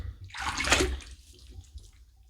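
After a wet shave, tap water runs and splashes in a short burst at a sink, swelling to a bright gush and fading into dripping and faint trickles, no voices.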